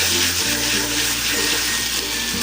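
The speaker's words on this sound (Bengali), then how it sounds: "আমি তেলের মধ্যে ভেজে নিতেছি।" Fish frying in hot oil, giving a steady, dense sizzle and hiss that stays close and even throughout, with a faint low hum underneath and no talking.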